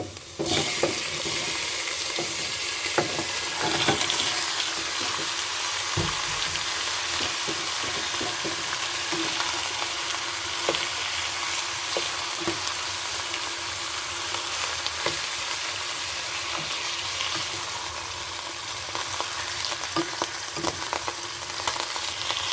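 Pork for adobo with eggs fries in a pan with a steady, loud sizzle, while a utensil stirs and scrapes the meat in frequent clacks close at hand throughout.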